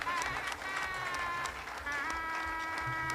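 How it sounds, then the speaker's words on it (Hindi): Audience applause at a Hindi-language award and speech event, steady and dense clapping throughout with a voice speaking over it. "जोरदार तालियां"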